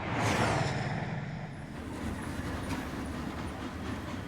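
A train rushing past at speed, a loud broadband roar swelling at the start and then settling into a steady rumbling rattle with faint clacking, used as a sound effect in a documentary about Einstein.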